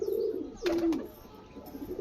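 A pigeon gives a single soft, low coo in the middle, with faint rustling before and after.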